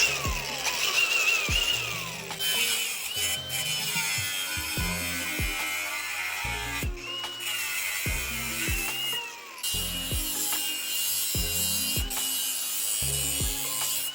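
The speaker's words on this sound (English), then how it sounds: "So I just need to trim this piece so it fits in the rim." A trailer part is trimmed to fit a wheel rim during an old trailer restoration, with repeated rhythmic cutting strokes and a thin squealing tone over steady background noise, close and without talk.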